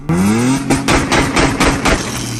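A Tofaş car engine revs loudly nearby, its pitch rising, then a rapid series of rhythmic thumping pulses as it drives over bumps.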